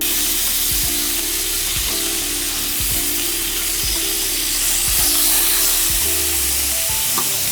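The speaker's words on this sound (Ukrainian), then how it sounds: "Курочка смажиться." Steady, loud sizzling of chicken frying in a grill pan, broken by soft low knocks about once a second, with no one talking.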